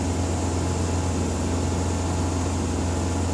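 A car engine held steady at 2,500 RPM during a vacuum test for a plugged exhaust, producing a continuous, even low hum with broadband noise, unchanging throughout and with no talk.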